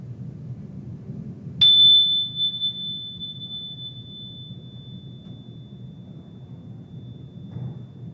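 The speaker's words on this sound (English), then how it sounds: "We'll close with the sound of the bell." A single meditation bell struck once, giving a clear, pure ringing tone that decays slowly over several seconds above a low room hum.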